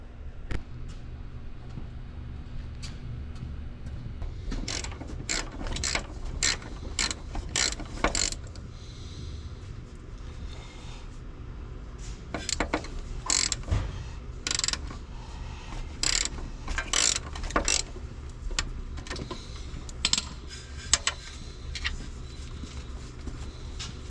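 A ratchet wrench works on truck transmission bolts in a sequence of quick clicking bursts between pauses, close and clear over a low mechanical background, with no talking.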